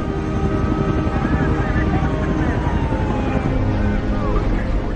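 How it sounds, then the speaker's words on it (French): Helicopters evacuating survivors at the scene of a DC-10 airliner crash make a loud, continuous rotor and engine drone. Faint siren-like tones and other vehicle noise are mixed in throughout. "9 hélicoptères et 34 ambulances évacuent les rescapés."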